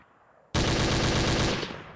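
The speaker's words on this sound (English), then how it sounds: "Give me the gunshots for that one." Loud burst of rapid automatic gunfire played as a show sound effect, starting abruptly after a quiet half second and sustained to the end with a slight tail-off.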